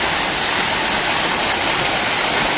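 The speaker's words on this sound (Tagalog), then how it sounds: "tubig po rito mga kaibigan ang tumatagas galing sa taas." At a waterfall, water pours down from above in a loud, continuous, dense roar with no breaks and no voices.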